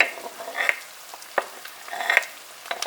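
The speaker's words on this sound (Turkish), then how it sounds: "Kıyma epey kavruldu." Minced meat sizzles and crackles steadily in a hot pan, with a few sharp clinks of a utensil stirring, close up and with no talking.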